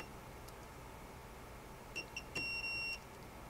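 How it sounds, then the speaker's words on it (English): Continuity tester probing grounds on 3D printer wiring: a few short high beeps, then one longer sustained tone, clear and close over faint room hiss. "you should hear a momentary beep, and then it goes away."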